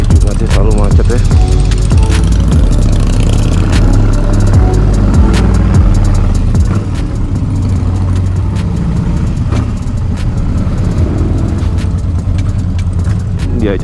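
A black 2003 anniversary Harley-Davidson Dyna Super Glide rumbles with a loud, deep, continuous engine throb while riding through congested Jakarta traffic, with someone talking over it.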